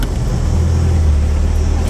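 A motor vehicle on the road through Mudumalai wildlife sanctuary, between Karnataka and Tamil Nadu, a loud, steady low engine and tyre rumble held close for a couple of seconds.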